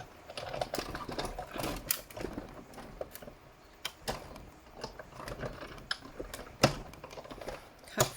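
A die-cutting machine forces a die through thick, multicoloured acetate card, giving a run of close mechanical clunks, rattles and sharp clicks at an uneven rhythm, with no voices.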